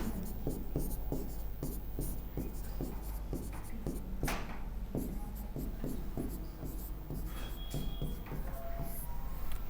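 Pen scratching on paper by hand, a quick run of regular rhythmic strokes close up, with a steady low hum underneath and a brief rustle midway.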